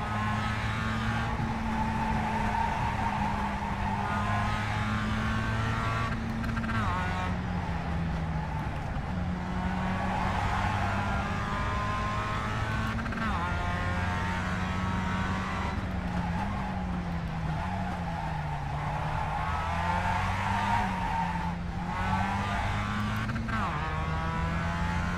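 A race car going off track at the Corkscrew drones steadily, its engine pitch rising and falling through shifts, with faint tire scrub and rushing noise underneath.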